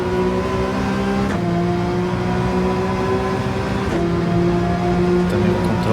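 Racing car in the video game Gran Turismo 7 pulling away in first gear, a loud, continuous engine drone with steady harmonic tones that shift pitch with each change in revs, no talking.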